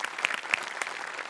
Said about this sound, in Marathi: मस्त, खूप टाळ्या